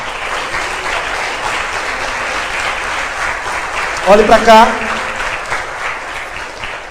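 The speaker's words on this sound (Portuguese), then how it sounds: "Só aqueles que creem aplaudam o Senhor bem forte." A church congregation applauds loudly and continuously, a dense wash of clapping filling the room, with a preacher's amplified voice speaking over it briefly near the middle.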